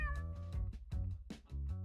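A cat gives a run of drawn-out, tonal meows, fairly quiet and somewhat uneven in pitch, with short breaks between the calls.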